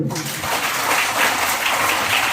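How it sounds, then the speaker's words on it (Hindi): A room of schoolchildren at a university outreach session claps loudly together, a dense continuous burst of applause close by for a couple of seconds. "एक बार जोर से ताली बजाओ।"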